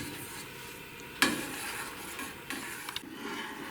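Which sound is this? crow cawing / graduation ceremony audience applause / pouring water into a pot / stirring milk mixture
stirring milk mixture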